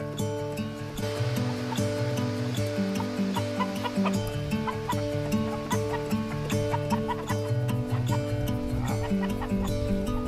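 Chickens clucking beside a chicken tractor, an ongoing chorus of close clucks layered over a dense, steady background with no voices.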